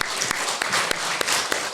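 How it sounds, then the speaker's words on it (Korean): A church congregation claps to welcome a newcomer at a Sunday service, a brief burst of brisk applause with a few distinct sharp claps punctuating the steady patter, no voices over it. "우리 박수를 환영하겠습니다"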